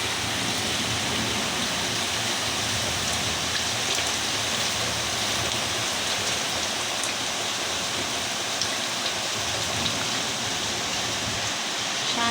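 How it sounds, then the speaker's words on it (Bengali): Heavy rain pours during a nighttime storm, a dense, unbroken hiss of drops on surfaces that stays loud and even throughout, with no voices. "কি ঝড় বৃষ্টি হইতেছে দেখেন।"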